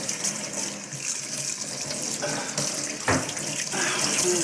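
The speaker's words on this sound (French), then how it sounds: "Et je vais le rincer. Hop, à l'eau froide." Salmon is rinsed under cold running tap water in a home kitchen: a steady hiss of water from the faucet runs throughout, splashing brighter for a moment near the end.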